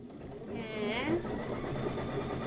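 Embroidery sewing machine stitching a tack-down on a Kimberbell table topper quilt, a steady whirring mechanical hum with rapid needle rhythm, close and fairly quiet, running continuously.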